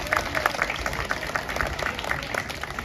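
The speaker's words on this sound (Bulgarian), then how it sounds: "Нашите аплодисменти." An audience at a civic event in Pazardzhik applauds for the mayor, a steady patter of many hands clapping at moderate loudness that lasts throughout.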